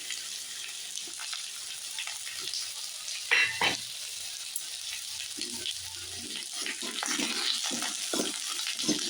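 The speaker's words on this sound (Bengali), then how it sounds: "এবার আমার তেজপাতা কালো জিরে দিয়ে দেবো" Bay leaf and nigella seeds sizzling in hot oil in a pan, a continuous close crackling hiss with occasional sharper pops and scrapes.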